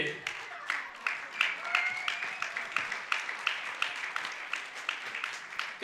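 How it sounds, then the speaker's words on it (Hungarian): Audience applause on a British-themed school show, steady rhythmic clapping from a group at moderate distance with some voices mixed in throughout. "Nagy tapsot neki!"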